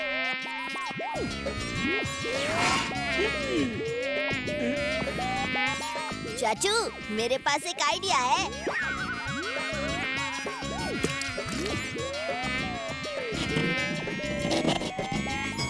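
Cartoon mosquitoes buzz continuously in an animated Hindi children's story, a close, whining drone that rises and wavers throughout while a character speaks over it.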